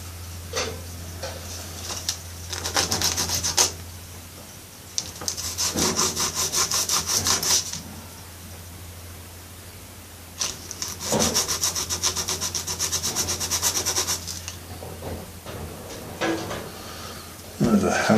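Sandpaper rubs back and forth on a small part from a Parkside Dundas 0 gauge Grampus wagon kit in several bursts of quick scratchy strokes, close and clear, with quiet gaps between them.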